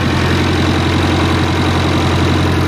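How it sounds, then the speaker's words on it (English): Old Massey 50 digger with its diesel engine running and the alternator whirring, a loud, close, steady chugging idle with a fast regular pulse and constant hum, no voices. "Alternator there whirring away."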